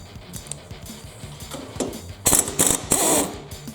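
A ratchet with a 5/8 socket backing out a bolt on a Cub Cadet front-mount PTO clutch, fast clicking of the pawl at first, then several louder, sharper bursts of ratcheting close by.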